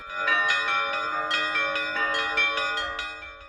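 Bronze church bell cast in 1695, ringing in rapid repeated strikes with rich sustained overtones, loud and close, with no talking.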